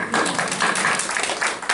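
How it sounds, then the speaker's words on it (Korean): Church congregation applauding during a Sunday sermon, a dense, steady patter of many hands clapping together for a couple of seconds at close range. "김시영 의사님 박수"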